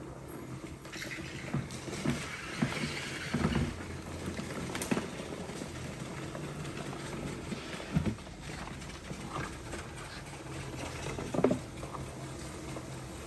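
A Karcher S 4 Twin walk-behind push sweeper rolls along outdoors, its bristles scratching and rattling over loose debris, with small clicks and patters from bits like a nut and bolt being picked up.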